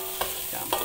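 Spices sizzle and fry in a hot pot for mutton biryani, with a steady crackling hiss and a couple of stirring scrapes, close and loud with no talking.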